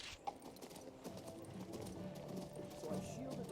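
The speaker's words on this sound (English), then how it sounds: "the horse is a little bit more speedy as well" Horse hooves clip-clop at a brisk, even rhythm during riding in King's Bounty 2, faint and steady beneath someone talking over the game.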